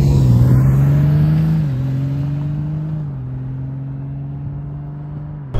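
A 2023 Honda Goldwing Tour DCT touring motorcycle engine pulls hard under acceleration, a loud steady drone that climbs through gear changes and fades slightly as it goes.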